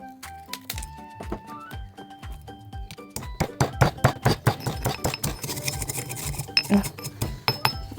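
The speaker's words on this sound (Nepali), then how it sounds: "यो फर्कीलाई हामी क्रस गर्ने है यसरी टुक्रा टुक्रा" Aloe leaf pieces are crushed by hand, giving a run of sharp, ringing clinks and knocks of a utensil on a hard container. The taps are sparse at first, then grow faster and louder in a pounding rhythm.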